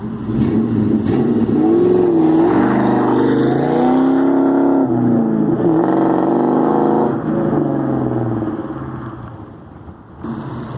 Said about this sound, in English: the last thing I haven't talked about yet is the exhaust on this car